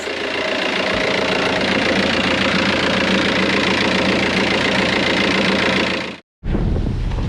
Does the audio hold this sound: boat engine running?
yes